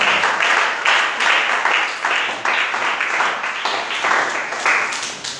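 A church congregation applauding loudly and steadily throughout, dense clapping that swells in rolling waves from a crowd close by.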